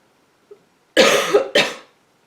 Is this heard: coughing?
yes